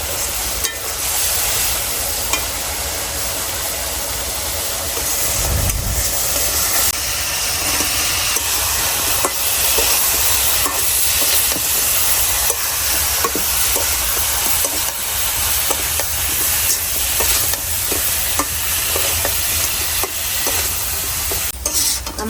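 Rohu fish pieces in a spiced paste of chilli powder and salt, cooked in a pan, with a steady close sizzle and hiss throughout and occasional stirring scrapes.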